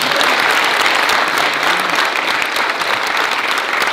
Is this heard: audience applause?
yes